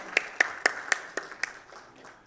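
A handful of sharp, close claps, about eight evenly spaced beats fading toward the end, from an audience welcoming a speaker onto the stage at a safety panel event; sparse rather than a full roar of applause.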